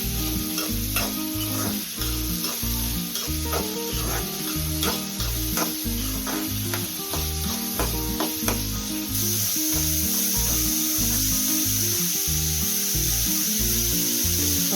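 Onions sautéing in a pan for egg bread rolls, with salt added, give a loud, steady sizzle and frying hiss throughout, broken by repeated scraping and stirring strokes of a spoon against the pan.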